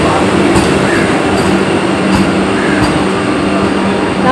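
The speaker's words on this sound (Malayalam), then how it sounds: "ട്രെയിൻ വന്നോട്ടോ ഗീസ്." The Mangalore–Trivandrum Vande Bharat train rolling into a platform, a steady loud rumble of wheels and carriages with faint rhythmic clicks and brief squeals, with people talking faintly beneath it.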